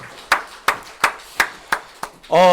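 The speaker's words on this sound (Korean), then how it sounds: "우리 하나님께 영광의 박수 올려드립시다" A church congregation at a Sunday worship service gives six sharp, evenly spaced claps in unison, each ringing briefly in the hall, before a sustained voiced tone begins.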